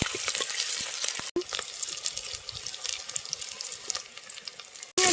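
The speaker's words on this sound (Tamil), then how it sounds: "முதல்ல எண்ணெய் ஊற்றிக்கணும், சோம்பு போட்டுக்கணும், பட்டை போட்டுக்கணும், வெங்காயம் போட்டுக்கணும், நல்லா கிண்டிக்கலாம்." Onion frying in oil with fennel seeds and cinnamon sizzles steadily and close, with scraping stir strokes on top and two brief sharp knocks, no voices.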